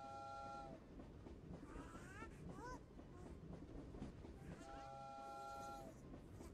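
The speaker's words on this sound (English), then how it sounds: "The little train gets moving." A toy train runs quietly, sounding electronic whistle tones at the start and again near the end, with soft clattering in between.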